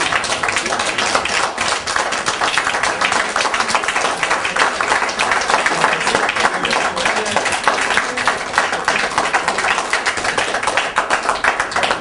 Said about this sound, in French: C'est tout ce qu'on donne au docteur Aïpo comme applaudissement.